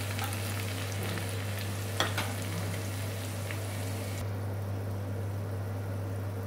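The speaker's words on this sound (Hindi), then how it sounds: "तो तेल हमारा गरम हो गया है। इसमें डालेंगे हम लहसुन।" Steady quiet sizzling of garlic frying in hot oil, with a soft clatter or two of stirring, over a low constant hum.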